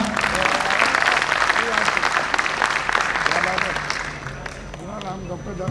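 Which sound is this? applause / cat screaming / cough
applause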